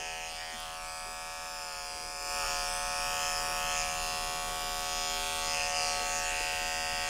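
An electric clipper with a snap-on comb trims a small Shih Tzu's head, a steady close-up motor buzz that grows slightly louder and rougher as the blade meets the fur.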